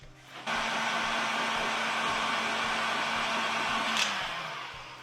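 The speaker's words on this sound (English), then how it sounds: "we're just gonna apply some heat with the heat gun" A heat gun shrinks heat-shrink tubing on a battery cable terminal aboard a sailboat. It switches on abruptly into a steady, loud blowing roar with a faint hum, holds for several seconds and then winds down.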